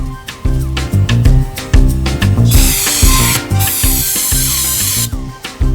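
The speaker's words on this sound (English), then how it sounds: "I hit ours with a little carburetor cleaner for good measure" Carburetor cleaner hissing from an aerosol can onto a generator part, loud bursts of spray with a long sustained blast in the middle, over a background of rhythmic tool-like knocking, no speech.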